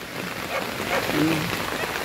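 Rain patters steadily on a tent in a continuous soft hiss, close and even, with no other sounds standing out.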